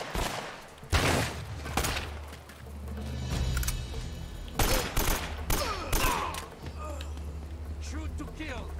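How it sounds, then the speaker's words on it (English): Gunfire from the video game Uncharted: Drake's Fortune crackles in repeated volleys over a steady low game rumble, with a person talking over the shooting. "like we're getting shot from behind now? Somebody shooting from the windows?"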